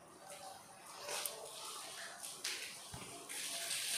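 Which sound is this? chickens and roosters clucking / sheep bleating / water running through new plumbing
water running through new plumbing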